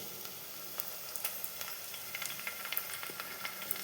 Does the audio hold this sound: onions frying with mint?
yes